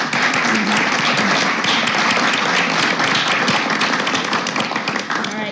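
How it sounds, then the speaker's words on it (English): A round of applause fills a meeting room at a university board committee session, dense and steady for the whole stretch, with a murmur of voices mixed in underneath. "please give her a round of applause for all her work and her excitement."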